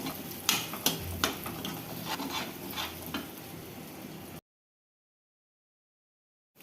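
Eggs being stirred and broken up in masala in a sizzling pan, with a spatula scraping and tapping several times over a steady frying hiss before the sound cuts off abruptly.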